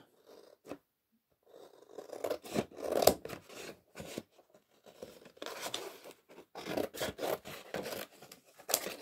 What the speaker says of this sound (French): Alors, on va couper le cercle.